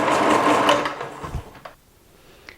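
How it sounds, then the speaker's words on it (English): Electric grater shredding carrots, a loud motor whir for about a second and a half that drops off, followed by a few light clicks and taps. "You use your mix here and you start grating by pressing down"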